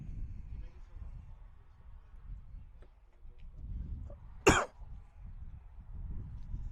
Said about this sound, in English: I apologize if I cough in the microphone